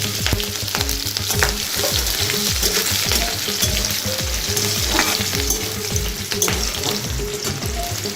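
Chopped green chili and garlic, with whole garam masala, dry red chili and bay leaf, frying loudly in hot oil for a Bengali five-spice tadka, a dense steady sizzle with low rhythmic scraping of stirring throughout.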